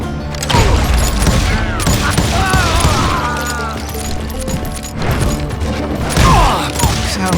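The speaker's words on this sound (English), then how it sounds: "Sounds like Garrett hired a whole regiment of hired guns" Rapid overlapping gunfire from a Wild West shootout in the video game Call of Juarez: Gunslinger, loud and continuous, with bursts of shots, bangs and crashes throughout.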